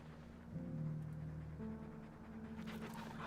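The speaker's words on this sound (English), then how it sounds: "That's why I hear the dog." Dog panting from the video game Final Fantasy XV, a steady run of quick rhythmic breaths heard alone and fairly close, with soft tonal game sounds beneath.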